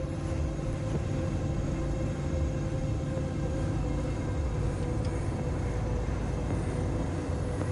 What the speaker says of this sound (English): Please note, the arrival of the next freight train is delayed.